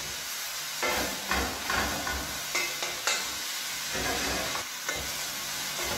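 Vegetables with zucchini, sage, rosemary and oregano sauté in hot oil, giving a steady close sizzle with soft stirring scrapes throughout.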